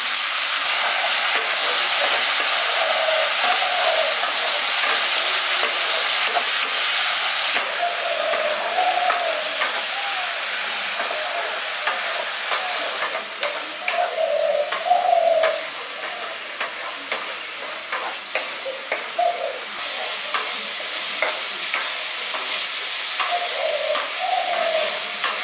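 Spice masala frying with potatoes in a pan for a village-style brinjal potato masala: a loud, continuous sizzle with intermittent stirring scrapes, close up and with no talking.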